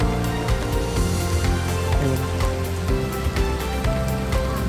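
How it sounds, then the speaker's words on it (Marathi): Heavy rain pours down in a dense, loud, continuous wash with scattered sharper drops spattering close by, unbroken for the whole stretch and without voices. "पाऊस बघा कसला"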